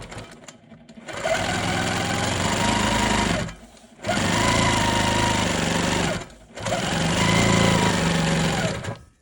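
A longarm quilting machine stitches pieces of quilt fabric in three loud, rapid, buzzing runs, each lasting a few seconds, with short quiet pauses between them.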